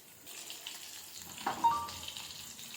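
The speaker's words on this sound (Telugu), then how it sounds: "ఇవి ఇంకా ఫ్రై అవుతున్నాయి" Stuffed bitter gourd pieces, tied with thin thread, frying in hot oil, giving a soft steady sizzle with a brief louder crackle midway, fairly quiet and with no voices.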